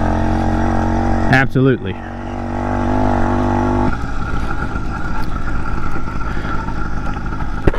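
A BT100 motorized bicycle engine drones steadily through a ride, a continuous buzzing hum under a man's brief spoken word, with a short burst of wind or handling noise near the start.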